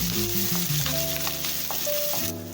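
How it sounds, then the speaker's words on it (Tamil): Ginger garlic paste, green chilli and curry leaves sauté in hot oil with popped mustard seeds for a potato masala, giving a steady close sizzle under sustained background tones. "இஞ்சி பூண்டு பேஸ்ட் பச்சை மிளகா கருவேப்பிலை வதக்கிக்கோங்க"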